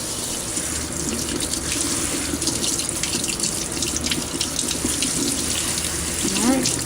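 Blueberries rinsed by hand under a running kitchen tap, a steady broadband rush of water into a sink with shifting splashes as the berries are handled, close and continuous throughout.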